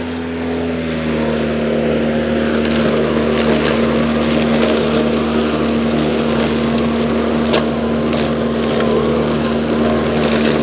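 A DeWALT 2x18V cordless self-propelled lawn mower (DCMWSP156) runs steadily and close by, with a constant motor hum and a whirring rush of cutting noise that holds throughout without pause.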